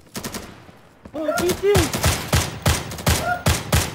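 Gunfire in the Insurgency video game: a quick run of sharp, loud shots fires in close rhythmic bursts, with a voice speaking briefly over the first shots.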